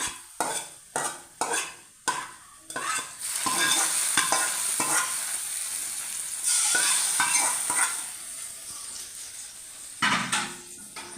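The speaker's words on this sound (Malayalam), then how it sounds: "ഒന്ന് ഇളക്കാം" A Kerala curry of dried fish and plantain is stirred in a pot. A run of sharp, rhythmic utensil knocks and scrapes opens, then gives way to a steady close sizzle and bubbling with occasional stirring clatter.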